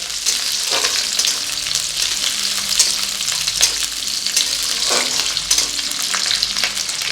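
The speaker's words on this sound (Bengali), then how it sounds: "এবার এগুলো ভেজে নিতে হবে" Steady, loud sizzling of chopped ginger, garlic and chili frying in hot oil, with occasional stirring scrapes; no talking.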